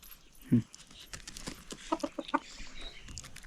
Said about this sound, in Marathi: अवनी गावाला आल्यापासून सगळे हा कोंबडे आहेत ना मित्र झालेत